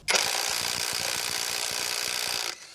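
A Black Tools TB21-I cordless impact wrench loosens a wheel nut on a pickup truck. It gives one loud, continuous hammering rattle lasting about two and a half seconds, then stops abruptly.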